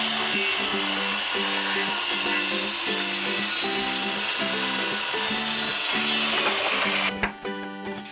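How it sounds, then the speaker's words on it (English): A saw cuts steadily through a panel for a heads cabinet aboard a steel sailing yacht under construction, with loud, close rhythmic strokes rasping for several seconds before the cut ends abruptly. "for a start, I just want to cut up that panel"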